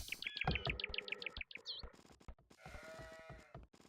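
Sheep bleating in Age of Empires II, a wavering, nasal bleat followed by further short calls, mixed with chirpy bird tweets and light game effects at moderate volume.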